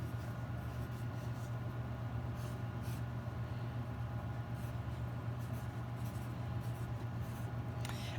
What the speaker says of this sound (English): I'm going to trace over it.